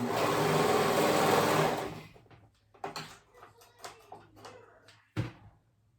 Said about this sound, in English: I'm using my serger to sew these up